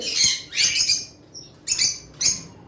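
Caged pet birds sold as breeding pairs, including albino birds, give sharp high chirps and squawks in three or four short bursts, close by, with no talk.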